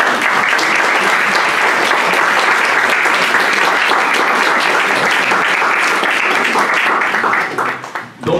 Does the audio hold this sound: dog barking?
no